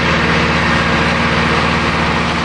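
A tractor engine runs close by in a loud, constant, unbroken drone with no changes in pace or pitch.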